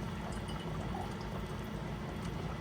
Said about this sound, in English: We're going to rinse it out and pour it in.